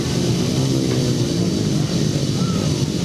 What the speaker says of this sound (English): On the start line now then, revs rise.